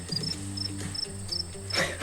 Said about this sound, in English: Can we edit in the crickets sound?